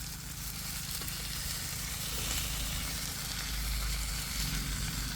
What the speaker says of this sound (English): And you can hear that sizzling.